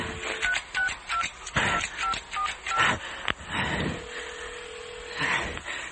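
A payphone being dialed in a radio mystery drama, a series of short touch-tone beeps in an irregular rhythm with clicks and handling noise, followed by a longer steady tone, heard close and alone.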